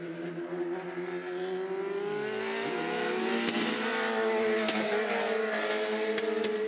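A Legends race car engine roars and revs steadily, shifting pitch as it accelerates and drives past, loud and continuous.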